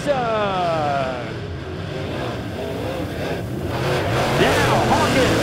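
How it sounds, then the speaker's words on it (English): Race cars roar off together at the green flag of a Memorial Day weekend Cash Money Series heat at Lebanon Midway, engines rising and overlapping under an excited announcer's commentary. "As the green flag is out, and we're racing."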